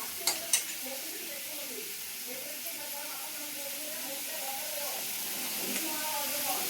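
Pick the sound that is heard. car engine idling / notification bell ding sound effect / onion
onion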